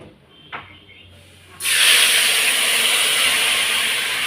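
Food tipped into a hot pan while cooking mustard-sauce katla fish at home sets off a sudden loud, steady sizzle that holds strongly after a faint clink and quiet background.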